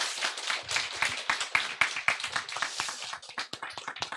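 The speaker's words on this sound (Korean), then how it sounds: "그러면 그렇게 여러분 만장일치로 박수로 해보도록 합시다" Members at an alumni association meeting applaud to approve a unanimous vote, a small group's lively clapping, close and steady, with no speech over it.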